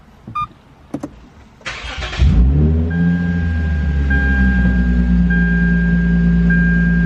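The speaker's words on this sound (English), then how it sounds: "It definitely revved a lot higher on a startup than normal." After a few clicks and a short whir, a Lexus engine with a newly installed RR Racing tune starts and revs higher than normal, then holds a loud, steady elevated idle.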